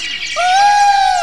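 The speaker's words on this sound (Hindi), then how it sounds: "कोयल बोलने लगी" A single loud, clear whistled call of an Asian koel in a devotional story rises sharply, then holds as a steady tone until the end.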